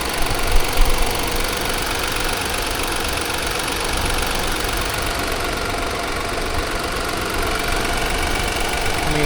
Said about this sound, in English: I see the motor. I believe it's a 4-cylinder EcoBoost.